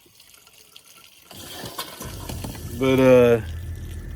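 Water runs from an outdoor tap, a soft broadband hiss building up and continuing steadily, with a brief louder gush near the end and a single spoken word.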